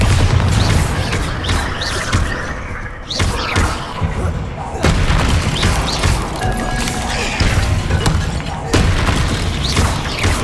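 Bombarda blasting spell explosions during combat in Hogwarts Legacy: heavy booms and crashing slams strike repeatedly over a dense, continuous battle din, loud and close, with sharp impacts around every couple of seconds.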